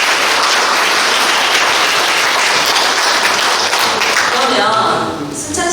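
Loud, sustained applause from an audience at an economic forum in Suncheon, steady dense clapping throughout that tapers slightly as a voice returns in the final second.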